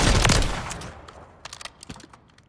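Machine gun fire in a video game: a loud sustained burst opens, then fades into several short, sharp shots spaced apart, with no talking.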